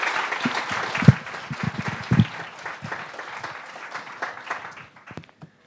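An audience applauds competition teams after their presentations: dense hand clapping with a few sharp nearby claps, holding steady and then thinning out toward the end.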